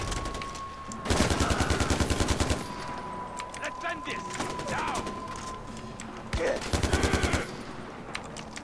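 Automatic gunfire in Far Cry 4 comes in two loud rapid bursts of evenly spaced shots, separated by quieter game ambience with faint scattered sounds and a steady tone.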